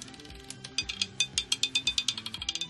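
Roulette wheel spinning with the ball rattling and clicking around it, a quick series of sharp ticks that builds and then slows, close and clear with no voices.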